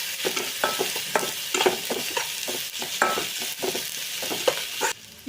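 A spoon stirs masala, salt and coriander powder frying in a pan for Maggi noodles, with a steady run of rhythmic scraping strokes over a soft sizzle, close and fairly quiet.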